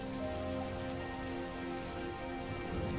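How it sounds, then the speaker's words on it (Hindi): Heavy rain pours down steadily onto surfaces in a village during a storm, a dense continuous hiss with scattered drop patter, close and loud throughout with no voices. "ये बारिश तो बढ़ती ही जा रही है।"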